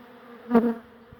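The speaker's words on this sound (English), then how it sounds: "We have bees getting confused because they're honing in on the edge of a window" A low, steady honeybee buzz hums throughout during a beehive relocation, swelling briefly as a bee passes close to the microphone before fading back to a soft drone.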